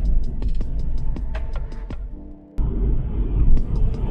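A Honda Integra Type R is driven on the motorway with loud engine drone and road rumble, steady throughout apart from a brief dip, with repeated ticking or knocking sounds above the noise and no talking.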